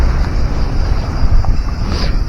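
Strong wind buffets a microphone on the seashore at Salamina while fishing, a loud continuous roaring rush with gusty swells and no speech.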